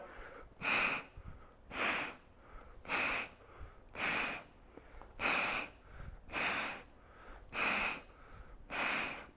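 Heavy rhythmic breathing during step forward lunges, about eight evenly spaced loud breaths, each a forceful close huff, repeating steadily with brief quiet gaps between.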